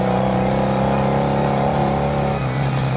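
A 1980 Honda CB 400 N built as a scrambler rides a dirt trail on tyres made for the road. Its engine gives a loud, steady droning rumble close up, holding an even pace throughout, with no voices.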